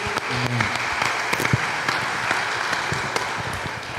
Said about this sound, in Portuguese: Aplauda o Senhor forte.